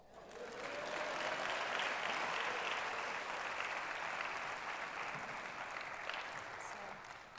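A lecture audience breaks into sustained applause, a dense even wash of clapping that swells quickly, holds steady for several seconds and tapers slightly at the end, with no talking over it.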